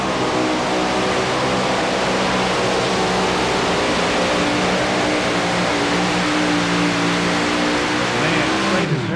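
A loud, powerful diesel engine of a new 4WD pulling tractor roars continuously under heavy strain at a tractor pull, its pitch shifting slightly before dropping off sharply at the very end.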